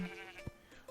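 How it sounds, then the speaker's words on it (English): A sheep gives a short, wavering, nasal bleat, close and clear, lasting under a second with little else around it. "What noise does the sheep make?"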